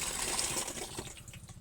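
One litre of water being poured into a crop sprayer tank, a short gushing splash that sounds close and fairly faint, then fades as the pour tapers off.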